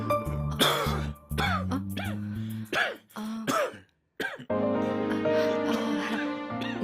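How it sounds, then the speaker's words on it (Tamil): A man coughs and clears his throat repeatedly indoors at night, in loud rough bursts separated by short gaps, over a steady tonal background hum. "உனக்கு இந்த இருமல் சத்தத்துல தூக்கமே வராது"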